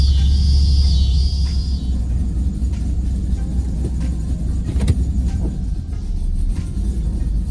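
A car with a mail-order engine tune idles while warming up, giving a steady low rumble that stays close and constant, with a brief high whine near the start and no talking.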